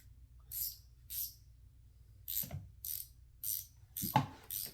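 A wrench ratchets in short clicking bursts during a Ford Raptor oil change, faint and close, with small metallic clinks in between.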